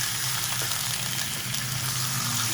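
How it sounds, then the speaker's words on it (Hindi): Mixed mutton pieces frying in hot oil over high heat for namkeen karahi, a dense, continuous sizzle with a low bubbling undertone, steady throughout and close, with no voices. "अब इसको हम अच्छे से सबसे पहले तेल के अंदर इतना भूनेंगे कि गोश्त का रंग चेंज हो जाए।"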